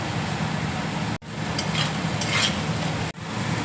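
Chopped capsicum sizzles in a hot frying pan while a spoon stirs and scrapes it, a steady close crackle broken by two brief cutoffs.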